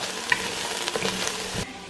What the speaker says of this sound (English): I'm going to lower the heat and then stir it